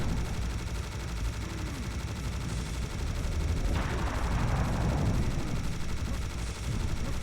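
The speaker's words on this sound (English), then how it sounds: "I'm just gonna minigun him." A minigun in Serious Sam fires sustained rapid bursts amid dense game noise and rumble, with a louder stretch of continuous gunfire midway.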